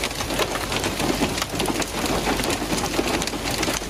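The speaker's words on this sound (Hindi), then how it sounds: "एक्सप्रेस वे पर भी यालाबारी और तेज बारिश हुई।" Heavy rain with hail pounding down in Islamabad, a dense, constant, loud hiss and patter of drops striking surfaces, with a low rumble underneath.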